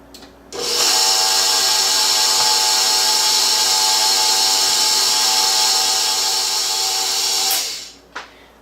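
An electric stand mixer runs on low while it blends butter and canola oil, a loud, steady motor whine lasting about seven seconds. It starts abruptly and winds down at the end.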